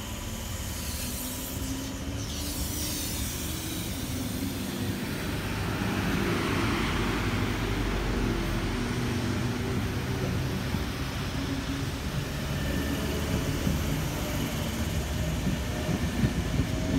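A train departing Padstow station, a steady low rumble and broadband rail roar that holds evenly throughout at moderate distance, with no talk over it.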